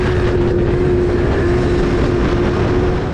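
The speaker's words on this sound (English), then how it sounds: "You can hear behind me the high revs of a 4-cylinder bike." A loud, steady engine drone with a sustained high-pitched whine, a four-cylinder motorcycle revving hard nearby, mixed with wind noise.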